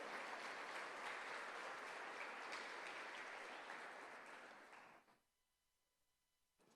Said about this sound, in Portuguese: Vamos aplaudir o Senhor por essa palavra nessa noite?